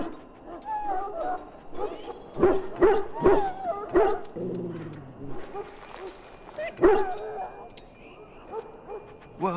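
A dog in the Dragon Age Origins video game gives several sharp, close barks in a cluster, then whimpers and yips, while a person talks alongside.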